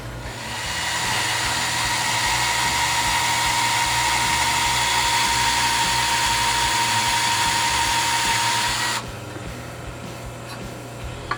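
A power drill bores into metal on a 1967 Land Rover Series 2A. It gives a loud, steady high whine for several seconds and then stops abruptly, leaving quiet background.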